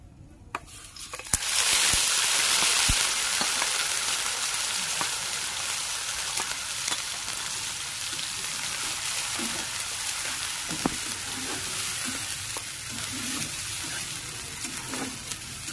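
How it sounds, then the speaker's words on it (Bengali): Onion paste and spices fry in a pan over a medium flame, a steady close sizzle with scattered pops and occasional light stirring clicks, starting with a sudden hiss as the paste goes in. "মিডিয়াম ফ্লেমে আমি পেঁয়াজগুলোকে ভেজে নেব।"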